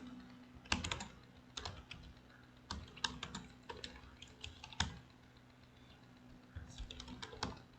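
Computer keyboard typing while HTML code is being entered, bursts of quick close key clicks separated by short pauses, quiet and alone.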